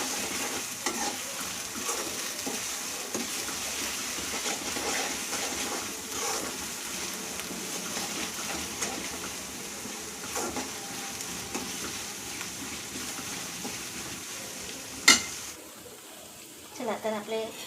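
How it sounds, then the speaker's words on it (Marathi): Masala spices roasting in oil for a Marathi-style misal, a steady close sizzle with scraping stirs running throughout, then a sharp clack near the end and a few brief knocks as the frying quiets. "चला तर आपले मसाला छान भाजून झालेला आहे."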